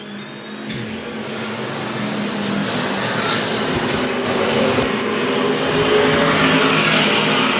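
USRA modified stock cars race on a dirt oval in a Lakeside Karrick Memorial main, a dense continuous engine roar that builds slightly as the pack passes, heard from trackside with no voices.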